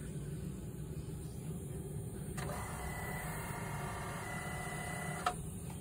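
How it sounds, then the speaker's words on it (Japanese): Steady mechanical whirring and buzzing from an air conditioning compressor in a Nissan Sakura electric car, running continuously at a low level from deep inside the vehicle, with a faint click near the end and no talk. "エアコンのコンプレッサーの音が鳴ってる気がする。"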